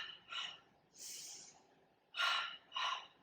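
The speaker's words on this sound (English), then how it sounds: "Good breathing." Heavy exertion breaths during a Pilates reformer workout, four breathy puffs and gasps in an uneven rhythm, close and fairly loud, with no talking.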